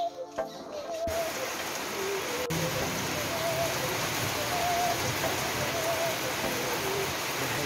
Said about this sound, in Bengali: বৃষ্টি চলে এলো